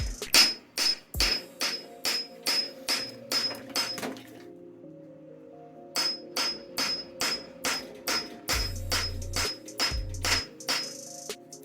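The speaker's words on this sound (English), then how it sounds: "You can also put a disposable bolt in here and beat on that instead." Sharp metallic hammer blows strike a disposable bolt on a car, about two per second in two close, loud bursts separated by a brief pause, with a low thud near the end.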